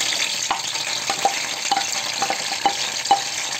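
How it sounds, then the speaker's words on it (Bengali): Chopped garlic sizzles in hot oil for a goat mutton bhuna, a steady dense frying hiss with a few sharp spatters and stirring clicks scattered throughout, close and continuous with no voices. "তো আমি একটু প্রথমে রসুন বাগার দিয়ে বসালাম"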